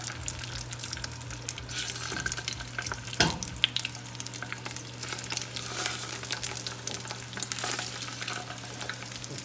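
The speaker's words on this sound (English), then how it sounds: "So what we want to do is brown them first in the oil." Italian fennel sausages brown in oil in a pan, a quiet, steady crackling sizzle over a low background hum, with an occasional louder pop or clatter.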